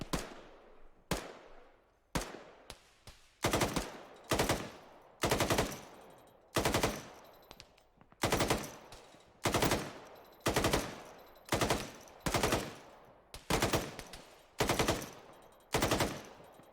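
Bursts of automatic rifle fire in the Squad military shooter, a long series of sharp loud volleys repeating roughly every second with brief gaps, close and echoing, with no talk over them.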